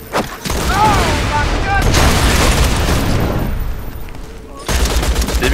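Repeated Nova shield explosions burst in rapid succession during Borderlands 2 co-op gameplay, loud dense blasts and gunfire in a near-continuous barrage with brief gaps, as players talk over the action.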